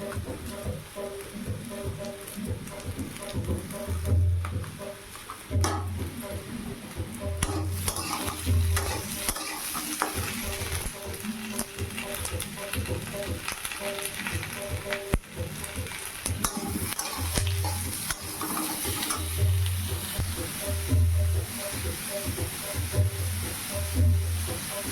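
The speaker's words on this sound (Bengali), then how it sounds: "এখন লবণ, হলুদ, লঙ্কা দিয়ে ভালো করে কষিয়ে নেবো।" Potatoes and kohlrabi are stir-fried in a pan with salt, turmeric and chili, giving a continuous sizzle broken by repeated scraping and stirring strokes at an uneven rhythm, close and moderately loud.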